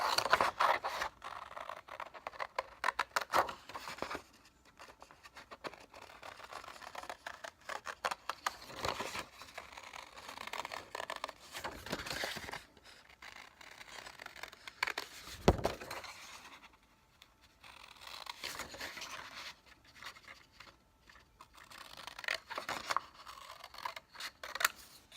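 Scissors cut a paper shape with a small attached flap, giving close, soft snips and scraping paper rustles in irregular bursts with brief pauses.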